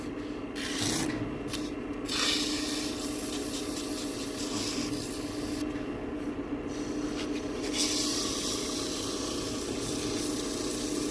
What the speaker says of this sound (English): just a little bit of 180 sanding, take the sharp edges off